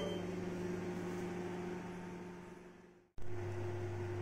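An IFB microwave oven toasting bread hums steadily at close range, its drone fading, cutting out for a moment, then resuming loud and low.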